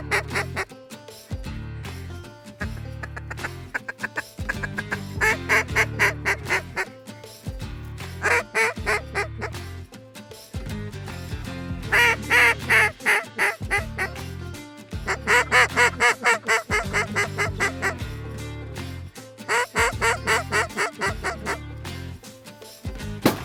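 Ducks quacking near a duck-hunting blind set with lit decoys and spinners: loud, close bursts of repeated quacks and honking calls come in waves, with brief pauses between volleys.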